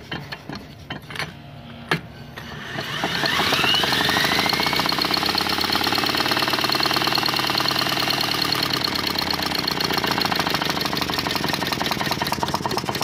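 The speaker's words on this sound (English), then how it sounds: "What the motor would look like running, spinning that quick." Golf cart engine running and spinning fast: after a few clanking mechanical knocks, the motor revs up into a loud, steady rattling drone with rhythmic knocking, continuous and close, no voices.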